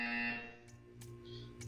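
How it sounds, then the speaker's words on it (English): A loud electronic buzzer from the Portal 2 video game blares a harsh, sustained tone, then gives way to quieter game sounds with a few short noisy bursts. "You will hear a buzzer."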